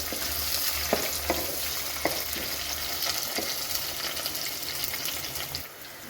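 Slit green chilies fry in a pan of oil for chicken curry, a steady close sizzle with a few sharp ticks and scrapes of stirring, fading slightly near the end.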